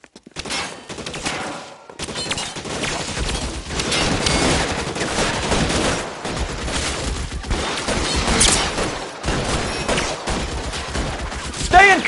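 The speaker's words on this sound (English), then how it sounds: "Find some cover. Suppressing fire." Heavy sustained gunfire from a shootout in the video game LA Noire, dense overlapping bursts and volleys running nearly continuously with brief lulls, loud and close, with voices calling out at moments.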